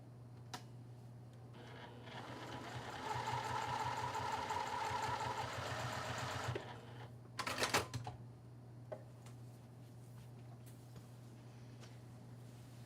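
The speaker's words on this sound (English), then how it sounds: "I'm going to sew 1/4 of an inch away from this edge of the fabric" A sewing machine set to a lengthened 3mm stitch sews fabric strips a quarter inch from the edge for quilt-as-you-go bag piecing, running steadily for about four seconds, followed by a few nearby clicks and handling noises.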